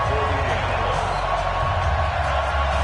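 Stadium crowd in an NFL video game before a Colts vs Vikings matchup, a constant dense roar of cheering under a commentator's voice, steady and loud from start to finish.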